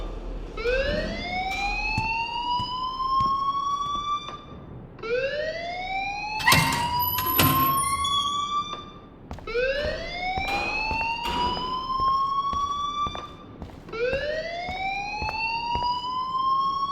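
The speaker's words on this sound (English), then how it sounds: "please turn off that alarm since that's your job" A school fire alarm in the video game Life is Strange wails in repeated rising sweeps, four long cycles in steady rhythm, loud and electronic, with brief clicks and knocks in between.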